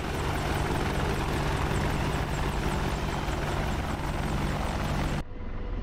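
An AH-64D Apache helicopter in the DCS flight simulator holds a hover, its rotor thumping in a steady rhythm over a constant engine whine for about five seconds before the sound cuts off abruptly.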